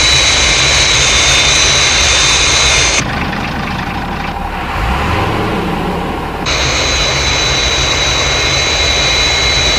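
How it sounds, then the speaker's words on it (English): Fireflash jet airliner on its landing glide path in a Thunderbirds episode, a loud steady jet engine roar that dips briefly in the middle before returning at full strength, with no talking. "Aircraft approaching glide path 5 miles to threshold."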